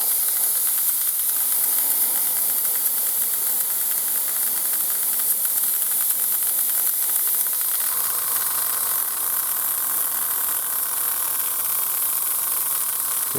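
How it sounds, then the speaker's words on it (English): A steady hiss of air from an airbrush runs throughout. Partway through, the compressor starts up and adds a low continuous hum beneath the spray. "The compressor kicking in."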